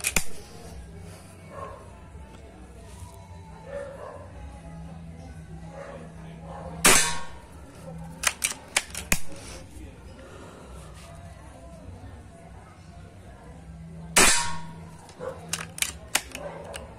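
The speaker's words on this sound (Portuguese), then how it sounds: "12 disparos, foi o que vocês viram." An air rifle fires 5.5 mm pellets, the shots coming as sharp, fairly faint cracks spread out over the stretch, some closer together than others, over a quiet background hum.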